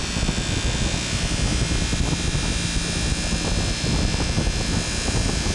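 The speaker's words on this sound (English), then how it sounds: "And I'm also buffing from underneath." Buffing wheel polishing stainless steel classic car trim, a steady loud whirring roar with broadband rushing noise that holds constant throughout, no voices.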